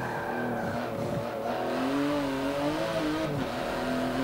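Porsche GT2 RS engine in the racing game Forza 7, a steady droning rev that rises and falls in pitch with faint tyre noise.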